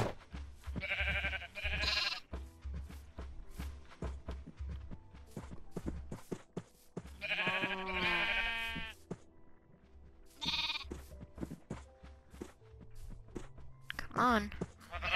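Sheep in the Minecraft video game bleat in several short bursts with quiet gaps between, each cry wavering and nasal, over faint footstep-like clicks, with a voice speaking quietly at times.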